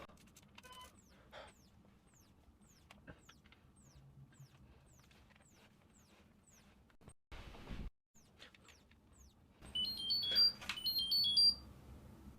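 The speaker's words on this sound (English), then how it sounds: "it sets off this like warning sound of beep beep beep beep beep" An overheating Nikon SB-910 speedlight flash gives a faint, evenly spaced run of short warning beeps. A brief noisy burst follows, then a cluster of louder, high-pitched tones near the end.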